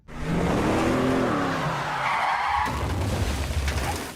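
A car in a film chase skids with a long, loud tire squeal while its engine revs hard, and the tires give a shorter screech near the end.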